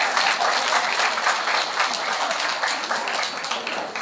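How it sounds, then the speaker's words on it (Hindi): Audience at a happiness and wellness workshop at Atmiya University in Rajkot applauds, with dense, steady clapping filling the whole stretch at an even loudness and no pause. "हाँ, ताली अच्छे से बजा सकते हैं।"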